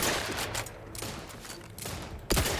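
Gunfire in the video game The Outer Worlds 2, a few sharp shots in quick succession with a louder blast near the end, heard up close.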